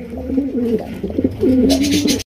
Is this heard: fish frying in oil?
no